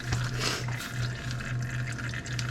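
Engine oil draining from a Polaris Hawkeye during an oil and filter change, a steady trickling pour of liquid with a low pulsing hum underneath.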